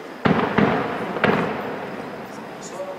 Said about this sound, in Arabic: قصف على المدينة من الحواجز المحيطة بها.